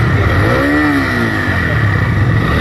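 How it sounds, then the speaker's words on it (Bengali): A motorcycle engine with water inside it, revved loud and close while water is forced out, a constant heavy engine roar with one rising and falling rev swell. "এক্সিলেটার মারতে থাকো, ছাড়ো আর মারো, ছাড়ো আর মারো।"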